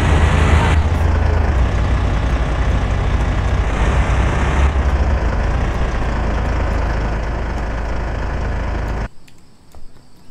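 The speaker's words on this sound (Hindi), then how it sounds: "भाई ये गाड़ी आवाज बहुत कर रही है यार।" A loud car engine in the Cars For Sale Simulator 2023 video game runs with a steady, heavy low rumble for about nine seconds, then cuts off abruptly.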